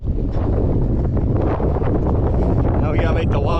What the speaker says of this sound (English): Man, it's windy and hot.